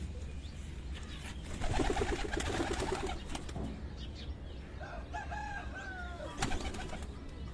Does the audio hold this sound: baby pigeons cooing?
yes